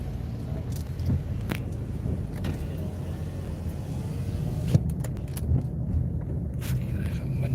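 Car driving along a beach road just after a U-turn, with a steady, close engine and road rumble holding throughout and a few faint clicks and knocks inside the cabin.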